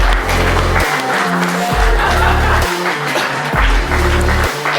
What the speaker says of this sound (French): On vous applaudit très fort